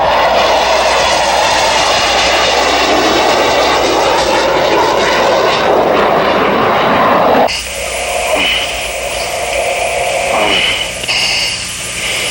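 An F-18 fighter jet roars overhead, a loud, continuous broadband engine rush that holds steady and then drops off sharply partway through into a thinner, fading whine.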